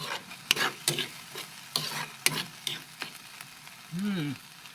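Corned beef and tomatoes sauté in a pan as ginisang kamatis, with a steady sizzle broken by sharp scraping stirs of a utensil, close and moderately loud, plus a short tonal clatter near the end.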